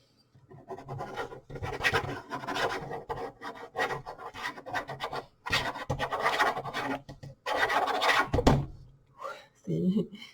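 A pen scratching quickly across paper during automatic writing, in dense bursts of scraping strokes broken by short pauses, close to the microphone.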